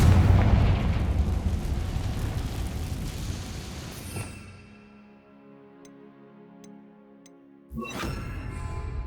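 Confringo blasting curse going off in Hogwarts Legacy: a heavy rumbling explosion that decays over several seconds, a quiet stretch with faint ticking, then a second loud blast bursting in near the end.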